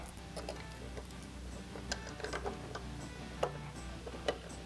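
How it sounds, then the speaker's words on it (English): New bolts being run down into an oil pump cover on a 6.7L Powerstroke engine, heard as quiet rapid ratcheting clicks and small metallic ticks over a low steady background hum, close up. "we'll run these bolts down in"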